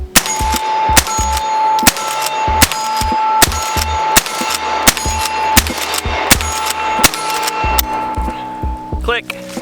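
A Henry .45 Big Boy All-Weather rifle fires a rapid string of loud, sharp shots at a steady quick rhythm, each with a metallic ring, through most of the clip before it falls quiet.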